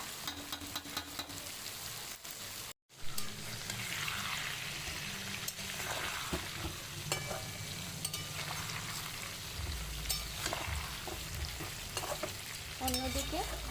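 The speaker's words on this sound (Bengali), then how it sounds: "অন্যদিকে আলুগুলোকে আমি একটু ভালোভাবে তেলের সাথে মিশিয়ে দেবো।" Potatoes frying in hot oil and being stirred in a pan for a Bengali meat curry, with a continuous sizzle, a brief cut of silence and scraping stirs throughout, no talking.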